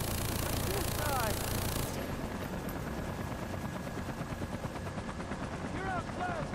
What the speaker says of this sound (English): They've got choppers!